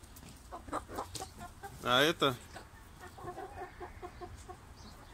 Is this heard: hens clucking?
yes